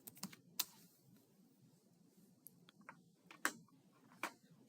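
Computer keyboard typing, sparse and quiet, with a handful of sharper key clicks spread over a low steady room hum.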